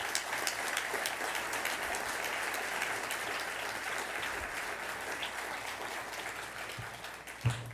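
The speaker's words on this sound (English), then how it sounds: "how about a round of applause for all our candidates?" Sustained applause rises from an audience at a city council candidate forum in a middle school hall, a steady, fairly faint wash of many hands clapping that ends with a brief louder thump.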